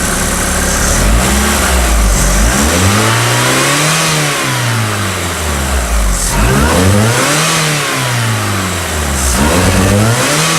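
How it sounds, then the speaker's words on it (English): A Mazda Miata engine with an intermittent misfire revs up and down under throttle several times, each rise and fall close and loud over a steady running drone. "Give it some throttle."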